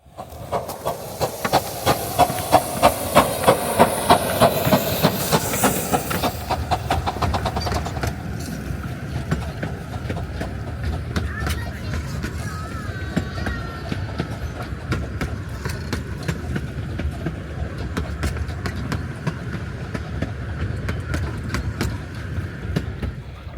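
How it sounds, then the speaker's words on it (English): A train pulls out of a station with hissing steam and a rising chug, then settles into steady rumbling and clickety-clack rail noise that continues at a distance. "film the train as it's pulling out the station"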